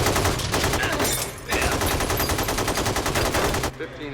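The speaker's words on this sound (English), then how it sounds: "They're shooting hundreds of rounds." Sustained automatic gunfire from AK-47s during a bank robbery shootout, hundreds of rounds fired in dense, loud, rapid bursts with a brief gap before resuming, then cutting off near the end.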